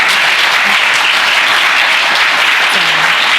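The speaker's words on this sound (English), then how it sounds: "if we could just give him a round of applause" Loud, dense applause fills a room at a business roundtable, many hands clapping steadily without pause, with faint voices briefly audible underneath.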